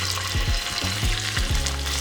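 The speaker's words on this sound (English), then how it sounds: "You can hear how it's sizzling, so that means that it's hot." Walleye fillet frying in hot butter in a pan, a loud continuous sizzle and crackle with a few soft scraping or stirring touches, no talk.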